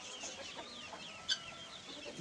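Chickens in a coop cluck softly and steadily, faint and somewhat distant, with one sharper call standing out briefly partway through.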